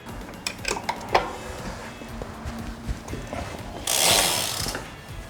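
A bicycle pedal being tightened while the back wheel is held still, giving a run of small mechanical ratcheting clicks and knocks from the drivetrain, then a louder broadband whirring burst near the end as the wheel or freehub spins.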